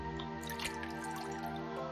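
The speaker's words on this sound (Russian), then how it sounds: "Вы наполнили деревянное ведро водой." A wooden bucket being filled with water in the video game Aria's Story: soft, brief dripping and splashing heard under steady background music.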